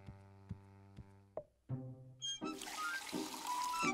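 Water pours into a glass in a Woody Woodpecker cartoon: a few evenly spaced musical plinks and a short slide come first, then a quiet, hissing, gurgling pour takes over to the end.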